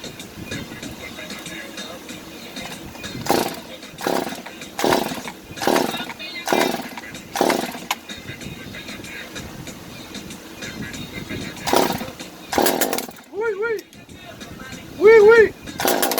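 Stihl MS 201TC chainsaw cutting a tree, heard as a series of sharp revving bursts that rise and cut off repeatedly, with short voice sounds in between.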